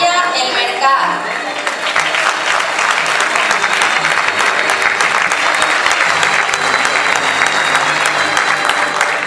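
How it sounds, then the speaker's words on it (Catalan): Loud sustained applause from an audience at a Valencian falla exaltation ceremony, a dense wash of clapping that swells after a brief announcement voice at the start. "Despedim amb un fort aplaudiment a la Falla El Mercat."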